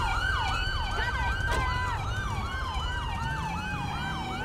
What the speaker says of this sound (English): Let me kill this siren.